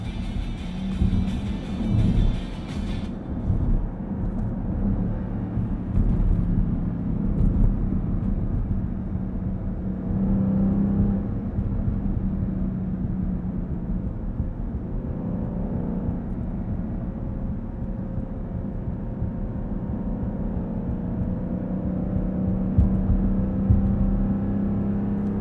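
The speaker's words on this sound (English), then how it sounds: "let you hear the exhaust as we get up to speed" A 2020 Dodge Durango SRT's exhaust while accelerating up to speed in manual mode: a steady low engine drone and whir heard from inside the cabin, rising and falling slightly as it pulls.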